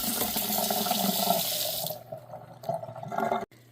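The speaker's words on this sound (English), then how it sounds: "we're actually going to go ahead and give this a quick rinse" A ham rinsed under a running kitchen tap, water pouring loudly and steadily into the sink, then shutting off partway through, leaving softer splashes and drips.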